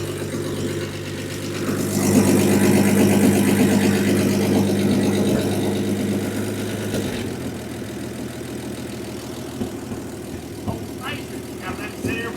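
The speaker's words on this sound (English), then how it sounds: "I was idling it down" A 1952 GMC truck engine idles steadily nearby, rising to a louder rev briefly before settling back down, with faint clicks and rattles toward the end.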